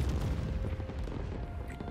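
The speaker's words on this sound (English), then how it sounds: "That's a lot of fireworks." Fireworks bursting over a city in the video game Spider-Man 2, heard as a dense, continuous rumble of overlapping booms and crackles, loud and sustained throughout.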